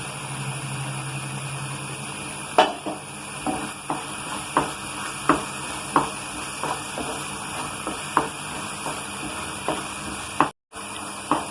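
A snack mixture seasoned with ground cardamom is stirred steadily in a pan, a soft continuous sizzle with regular scraping strokes of the spoon about every second, close and alone.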